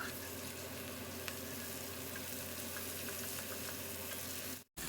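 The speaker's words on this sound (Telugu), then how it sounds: "ఒక స్పూను అల్లం వెల్లుల్లిపాయ పేస్ట్ కూడా వేసుకొని ఫ్రై చేసుకుందాము" Ginger-garlic paste fries with browned onions in oil, a steady, even sizzle with faint crackles that drops out abruptly for a moment just before the end.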